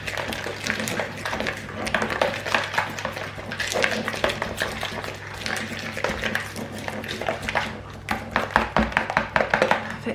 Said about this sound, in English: So I'm just gonna give that a bit of a mix.